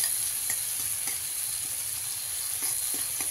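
Green chillies sizzle steadily in a pan for methi bhaji, stirred until they turn red, a constant bright frying hiss with soft scraping strokes close by.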